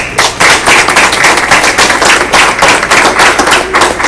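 An audience at a school board meeting claps steadily and loudly, a dense wash of close hand claps sustained without a break.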